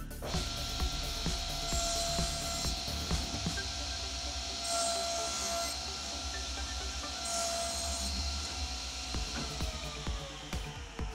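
A table saw cutting wood, its motor droning steadily beneath a scraping, rasping bite through the board, loud and close and running unbroken.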